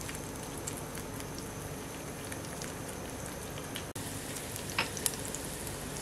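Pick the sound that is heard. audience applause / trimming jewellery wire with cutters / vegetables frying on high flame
vegetables frying on high flame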